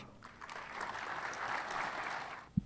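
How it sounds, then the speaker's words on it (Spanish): An audience at a national forum on rule of law and security applauds a speaker, a short swell of moderate clapping that fades quickly, ending with a single thump. "Vamos a recibir con un fuerte aplauso a la licenciada Ana María Salazar"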